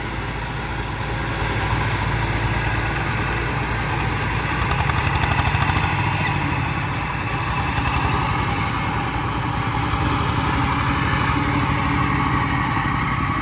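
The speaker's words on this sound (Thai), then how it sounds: "เอาเร่งเครื่องเข้าไปค่ะเร่งเครื่อง" Engine idling and revving in rough pulses, rising into a louder burst midway, with a sharp rattling, chugging texture throughout.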